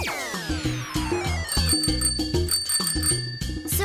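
A bicycle bell rings brightly over a busy cartoon music backdrop, its ring repeating throughout.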